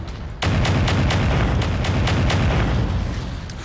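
Ultimate flak guns on a King Crab mech in MechWarrior 5 fire a loud, continuous barrage, roughly a dozen heavy booming shots in quick rhythm over a dense rumbling roar that starts abruptly and runs to the end.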